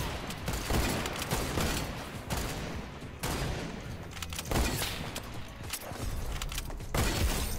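Rapid gunfire from a Fortnite match, bursts of shots and booms following one another closely and loudly throughout, with no talking.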